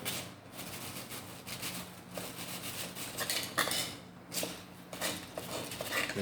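A cutter blade scraping dried glue off a surface: repeated short, dry scratching strokes in an irregular rhythm, close and fairly quiet, with no talking.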